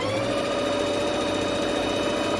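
A Bernette B05 sewing and embroidery machine runs a zigzag stitch with a steady, close mechanical hum and fast rapid-fire whirring, continuous and even throughout.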